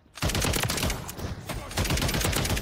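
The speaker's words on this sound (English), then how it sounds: "Three shots to the head tonight." Rapid automatic gunfire in Call of Duty Modern Warfare 3 on a small multiplayer map, dense loud bursts of shots starting abruptly and continuing almost without pause.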